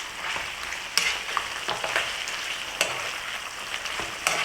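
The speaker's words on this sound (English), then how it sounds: "It's cooking in its own fat" Geera pork sizzling and frying in its own rendered fat, a steady crackling hiss with scattered sharper pops and spits throughout, close and moderately loud with no talking.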